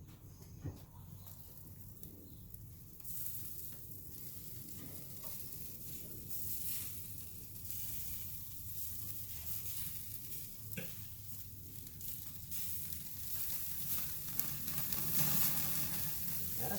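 Broccoli cooks on a charcoal grill converted from a pellet smoker, giving a steady low sizzle and hiss with a few faint pops, continuous and fairly quiet throughout.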